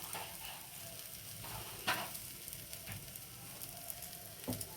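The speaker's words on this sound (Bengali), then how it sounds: "আর একটা পিঠ ভাজা হোক," A fish omelette fries in a pan with a steady low sizzle, broken by a few sharp crackling bursts as it is pressed and turned; no voices.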